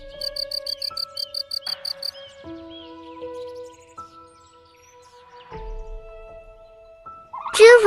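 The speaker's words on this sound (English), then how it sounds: "Flock of crickets." Crickets trill in steady rhythmic pulses for the first two seconds, then give way to sustained tonal calls that fill the middle, closing with a sharp loud burst at the end; no voices.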